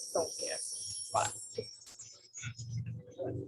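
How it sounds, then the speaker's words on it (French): Cicadas sing outdoors on the grounds of a longhouse, a steady high buzzing drone running beneath a person speaking French. "I'm thankful to hearing the cicadas."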